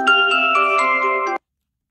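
A mobile phone ringtone plays a bright, harmonic chime that lasts just over a second, sounding clear and close before cutting off abruptly into silence.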